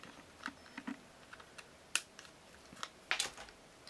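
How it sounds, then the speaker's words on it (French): Small precision scissors cutting paper for scrapbooking, a series of crisp, close snips and clicks spaced irregularly across the quiet, with no talking. "Je vais la couper. Des petits ciseaux de précision."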